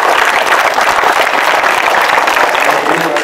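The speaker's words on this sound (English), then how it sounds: "give them a big hand of applause" Audience applause after a thank-you to visitors at a St John school event in Dominica, dense, steady clapping filling the whole stretch without a break, loud and close, with no clear talk above it.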